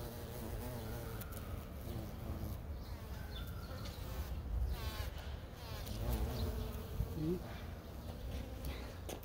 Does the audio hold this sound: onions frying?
no